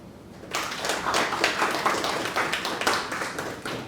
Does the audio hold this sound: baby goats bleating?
no